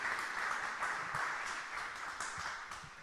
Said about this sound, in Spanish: Voy a pedir que recibamos con un aplauso al crítico de arte